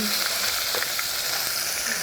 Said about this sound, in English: We'll put our onion.